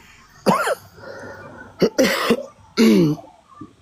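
Several harsh coughs close up, spaced irregularly, with throat clearing between them, from a speaker with a lingering cough and hoarse voice.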